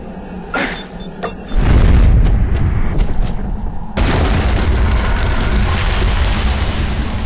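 A spike grenade in the video game Fracture erupts into a column of molten rock with a heavy boom, followed by a sustained loud rumbling, crackling rush that surges again midway and keeps churning.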